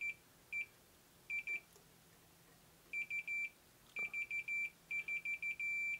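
A multimeter in continuity mode beeps in short, faint, high electronic pips, irregular bursts and clusters as probes touch resistor legs with varying pressure, in a quiet room.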